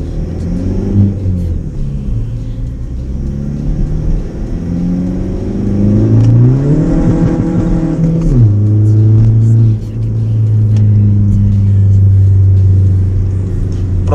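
Skoda Fabia 1.9 TDI diesel with stage 2 tune accelerating hard, engine rising in pitch through the revs, a gear change, then pulling again, loud and close from inside the car with no talking.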